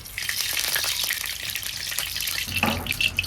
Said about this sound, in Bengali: কড়াই গরম হয়ে গেছে, এখন দিয়ে দেবো তেল